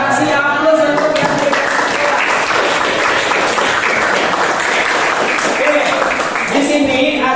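Audience applause after a class presentation, a dense, steady wash of clapping that fills the whole stretch loudly with no voices over it.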